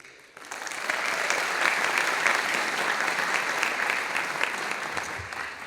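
An audience at a college State of the College event applauds Boys and Girls Club kids, clapping swelling quickly and holding as a dense, even roar before easing slightly near the end.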